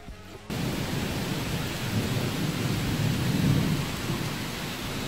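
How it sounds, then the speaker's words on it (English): Thunderstorm during an outdoor Fourth of July gathering in West Virginia: a steady, loud wash of rain and low rumbling thunder fills the whole stretch, swelling slightly near the middle, with no talk. "I want more thunder to hit"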